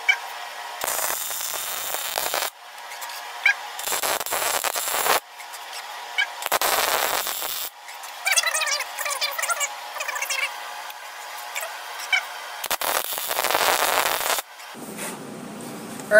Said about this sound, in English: Hear the creaking and banging around that's going on?